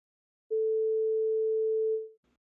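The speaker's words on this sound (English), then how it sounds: "You're now hearing another sine waveform but at a higher frequency" A single pure sine wave tone at a higher pitch sounds steadily for about a second and a half, then fades out cleanly, alone against silence.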